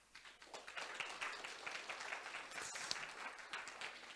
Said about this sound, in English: Thank you to applaud her.